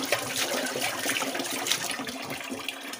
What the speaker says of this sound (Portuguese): Aqui, Marcelo, a gente tá enchendo que faltou água desde de manhã, né?